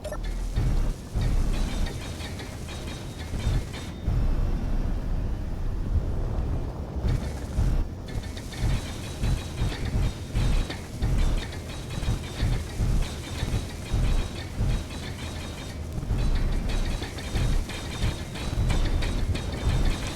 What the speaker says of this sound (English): So let's finish welding it and then give it a test.